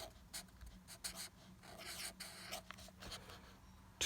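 A pencil writes on paper during a handwriting practice lesson, giving faint, close scratchy strokes in short irregular bursts over a low background hum, with soft speech-like sounds in places.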